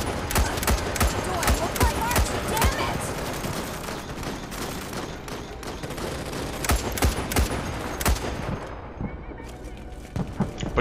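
Rapid gunfire and explosive bursts from the video game Starship Troopers: Extermination, dense and loud throughout, with sniper rifle shots mixed into a chaotic battle soundscape that thins near the end.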